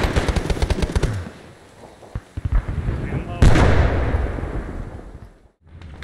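Dense automatic gunfire from Arma 3 combat rattles in loud, rapid bursts, then drops to scattered shots before a heavy, close blast and sustained noise.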